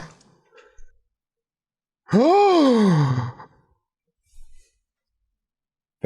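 A single drawn-out performed gasp or sighing breath, loud and close, with a falling vocal tone that stands alone between quiet pauses.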